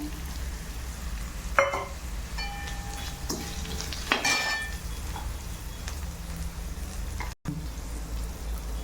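Khaman dhokla batter is stirred and mixed in a pan, giving soft scraping and clinking strokes of a spoon with a couple of sharper taps and a faint tonal ring over a low steady background, no one talking.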